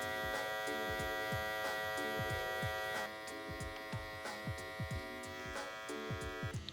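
Electric hair clipper with a half guard cutting hair for a high taper fade, a steady close buzz with a dense harmonic hum and repeated short strokes as the corners of the blade work through the hair.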